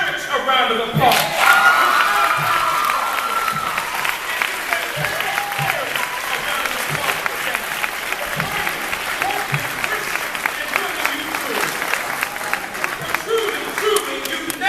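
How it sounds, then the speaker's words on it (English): A large graduation ceremony audience breaks into loud, sustained applause with cheering and crowd noise, a thick continuous roar of clapping that holds steady for many seconds. "So give your parents a round of applause."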